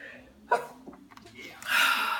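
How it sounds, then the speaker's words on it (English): A single close, sharp sneeze from someone with a cold bursts out, followed by a short pause and some breathy noise. "I feel like I'm going to sneeze"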